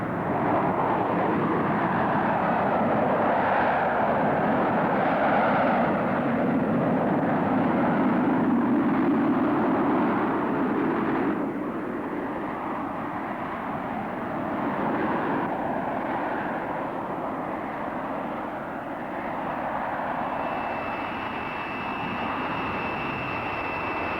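A Harrier jet at an air show, a loud sustained jet roar that swells and then fades slightly as it passes, with a thin high whine emerging near the end.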